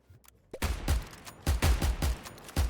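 Bursts of video-game gunfire in How to Fish crack out in a quick series of sharp shots, several close together and moderately loud.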